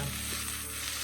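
Beef browning on a griddle for a Philly cheesesteak gives a brief, dense, even sizzle, close and constant with no talking.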